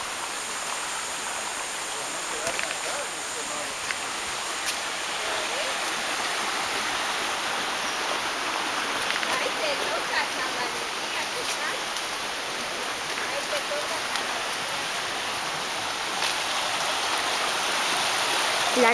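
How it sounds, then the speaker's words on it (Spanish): A steady, broad rush of a red waterfall in the Amazon rainforest of Ecuador fills the scene continuously, sounding fairly close and constant throughout. "Ahí está la cascada roja."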